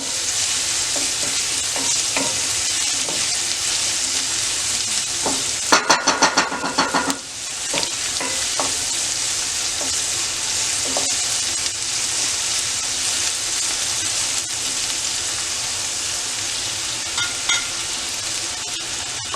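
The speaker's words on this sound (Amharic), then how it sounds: "ትንሽ ጠበስ ካረግን በኋላ ቃሪያችንን እንጨምራለን" Tomatoes and green chili peppers frying in a pan for Ethiopian vegetable kita firfir: a constant loud sizzle with occasional stirring scrapes, including a brief burst of clattering agitation partway through.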